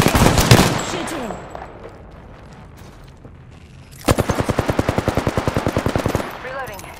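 Rapid automatic gunfire in the Apex Legends video game, a dense burst of about two seconds following an earlier short volley, with a quieter stretch of game ambience between them.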